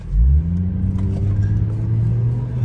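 A Toyota Mark II JZX110 with its 1JZ-GTE engine drives along, giving a steady, loud low rumble with a brief rev at the start and a smooth, continuous engine drone throughout.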